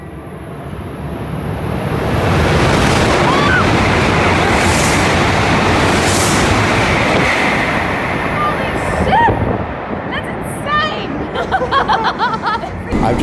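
Shinkansen bullet train ride in Japan, a loud broad rumble of cabin and track noise that swells early and holds steady, with people chattering throughout and a few sharper sounds near the end.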